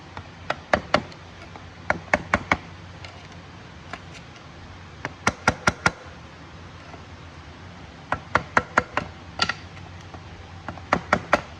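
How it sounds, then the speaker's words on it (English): Sharp, close tapping on the water pump collar of a Yamaha 115 outboard, coming in irregular bursts of two to four quick knocks separated by short pauses, with no talk over it. "But just tap it back down."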